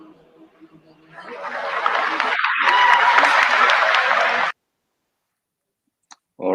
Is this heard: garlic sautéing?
no